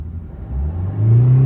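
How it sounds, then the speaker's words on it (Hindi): A car engine revs up from idle while a diagnostic scanner reads live RPM, the low rumble swelling into a rising, loud drone within a second or so. "अभी जैसे मैं इसे रेस करूँगा"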